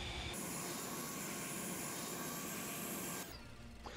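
A steady, loud roar from a plane's thrust engine in the video game Main Assembly, running evenly for about three seconds before cutting off to quieter background.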